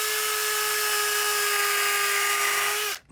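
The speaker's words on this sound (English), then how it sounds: "I'm just gonna go ahead and pre-drill" A power drill whirs steadily with a high, constant whine while pre-drilling holes into the bottom of a wooden gate piece, then spins down and stops just before the end.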